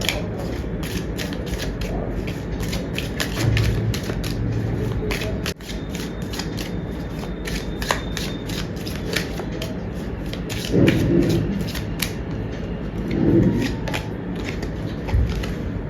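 Tarot cards are shuffled continuously, a dense rapid riffling and slapping that runs the whole length, close and fairly loud, with a few soft bumps and handling noises mixed in.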